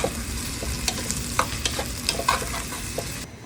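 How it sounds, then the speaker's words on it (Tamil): Ivy gourd (kovakkai) sizzles steadily in a pan while a spoon scrapes and stirs through it, with frequent close clinks and scrapes over a continuous frying hiss and no voices. "கொஞ்சம் லேசாக ஃப்ரை பண்ணிட்டோம்னா நல்லாயிருக்கும். வதங்கிற மாதிரி இருக்கும். வதக்கி எடுத்துக்குவோம்."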